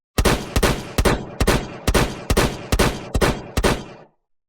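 Gunfire rings out as nine loud, sharp shots in a steady, evenly spaced rhythm over about four seconds, then stops abruptly.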